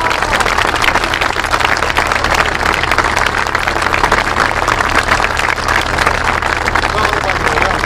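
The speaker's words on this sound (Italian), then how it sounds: "Oltre la riconoscenza c'è un solo atteggiamento, un applauso senza limite" Continuous, loud, dense clapping from a crowd at a regional Civil Protection volunteer day, a uniform wash of applause with no breaks.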